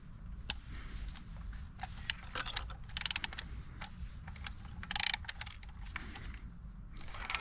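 A spark plug is snugged down by hand on an Audi TT MK2. Sparse, quiet metallic ratchet clicks and small creaks come in irregular bursts over a faint background.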